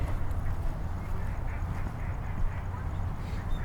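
Ducks quack at a park pond, heard up close and binaurally among steady outdoor background noise, with a voice speaking faintly nearby.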